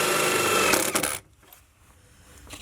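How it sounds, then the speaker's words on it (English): A power drill runs loud and close for about a second, driving a fastener for an Espar heater muffler into the side of a camper van, then stops, leaving quiet room noise. "I'm just going to drill it into the side of the van"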